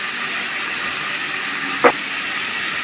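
Tomatoes frying in a pan with ginger paste for a tilapia and papaya curry give a steady broadband sizzling hiss throughout, with one brief clatter near the end; no one speaks.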